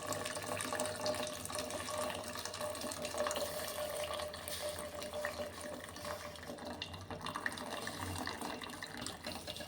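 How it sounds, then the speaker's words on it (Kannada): Water pours steadily from a tap or jug into cooked dal for a quick Kannada-style dal sambar, a continuous running, splashing flow lasting throughout at moderate loudness with no talking. "ಮೇಲೆ ನೀರಷ್ಟೇ ಹಾಕ್ಕೋತೀನಿ"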